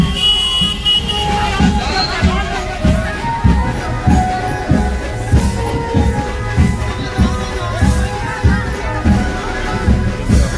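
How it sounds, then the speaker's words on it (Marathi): A crowded, jammed street on the road from Mumbai to Konkan during the Ganpati festival, with car horns tooting repeatedly over a steady traffic rumble. Crowd babble fills the background, and a nearby voice talks throughout. "हे बघा काय गर्दी आहे आणि ट्रॅफिक पण जाम आहे इकडे पुढे."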